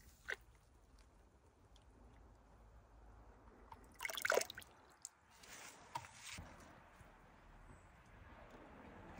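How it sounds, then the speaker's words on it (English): A seashell being rinsed in water after a brief acid soak, heard as soft sloshing and liquid splashes, loudest in a short burst midway, with quiet drips and handling noises around it. "rinse it in water."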